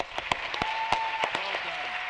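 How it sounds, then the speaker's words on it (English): An audience at a Harlem Academy commencement ceremony claps in scattered, uneven bursts, a few sharp individual claps standing out over a quieter room. "Let's give a huge round of applause for my good friend, Christian."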